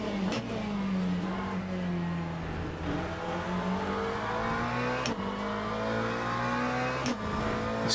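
A Ferrari racing car's engine drones steadily at high revs, its pitch dipping and climbing as it brakes and accelerates, with brief sharp shift blips, loud and sustained throughout.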